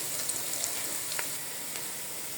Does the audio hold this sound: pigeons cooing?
no